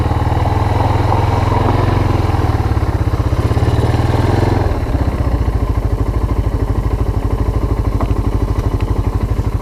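Yamaha Moto4 ATV engine running steadily with a rapid, throbbing low putter through the whole stretch, close and loud, briefly dipping before settling into an even cruising drone.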